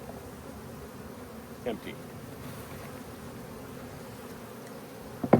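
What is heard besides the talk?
honey bees buzzing around hive frames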